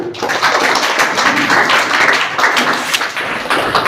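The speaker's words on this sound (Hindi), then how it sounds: "हम लोग अभिभावक श्री मंजेश जी के लिए जोरदार तालियां" A school audience at a Teachers' Day event applauds a parent being honoured. The clapping is loud and continuous, a close wash of many hands that fills the whole stretch.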